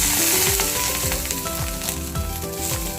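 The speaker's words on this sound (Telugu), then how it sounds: "తర్వాత కొన్ని ధనియాలు, జీలకర్ర కూడా వేసుకొని వేపుకోవాలి." Coriander seeds, cumin and curry leaves roast in a hot pan with a loud, continuous crackling sizzle and repeated scraping strokes of a spoon, close up and free of any voices.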